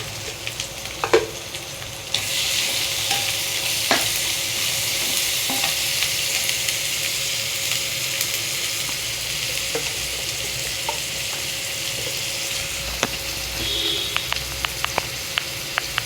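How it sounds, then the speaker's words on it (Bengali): Ground coriander, turmeric and chili powder frying in oil and stirred in a pan, giving a loud, continuous sizzle with scattered sharp clicks of a spoon against the pan. "মশলাটাকে তেলের উপরে হালকা নেড়ে চেড়ে একটু ভেজে নিচ্ছি"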